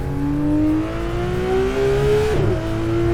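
A race car engine in the Assetto Corsa video game at Spa-Francorchamps, revving and accelerating steadily in rising pitch, with a quick gear change near the end before it climbs again, loud and alone.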